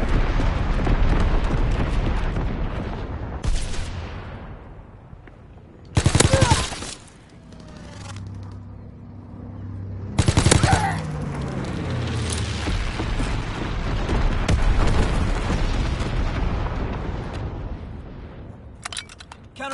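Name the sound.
mortar rounds and gunfire from the video game Call of Duty WW2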